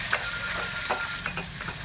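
Garlic and pork sautéing in a pan for mung bean stew, a steady close sizzle with a few stirring scrapes and clicks throughout, no talk.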